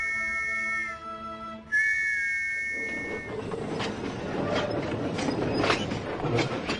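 Two sharp whistle blasts from a Thomas and Friends steam engine in Roblox, then a train rumbling and clattering along the rails, growing louder.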